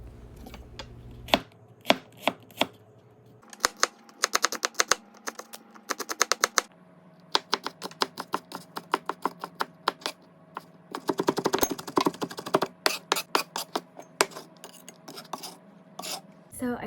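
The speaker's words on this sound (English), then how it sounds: "So I minced up the 2 little shallots" Two small shallots being minced with a knife on a cutting board, a rapid series of crisp chopping taps in quick bursts with short pauses, close and clear with no talking.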